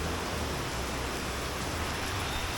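Heavy rain pouring onto a flooded street in Ho Chi Minh City, Vietnam: a dense, steady, hissing wash of water with no breaks, moderately loud and continuous.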